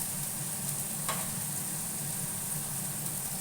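Onion and ginger-garlic paste with spices sizzle steadily in a hot pan, a continuous bright crackle up close with a low background hum and one brief scrape of stirring.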